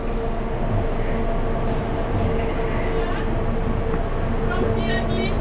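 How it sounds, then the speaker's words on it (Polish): A city bus on Crete, headed to Chania, pulls in with a steady mechanical rumble and road noise, close and continuous, while people talk nearby. "nasz autobus do Hani przyjechał"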